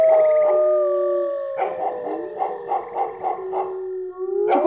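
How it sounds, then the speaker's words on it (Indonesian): Several dogs howl together in long, overlapping wails, rising and falling with short yelping breaks, sounding somewhat distant. "terdengar lolongan panjang anjing sahut menyahut di kejauhan"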